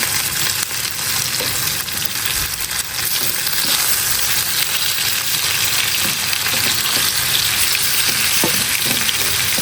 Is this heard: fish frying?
yes